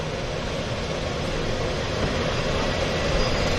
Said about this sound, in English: Turbo starting up.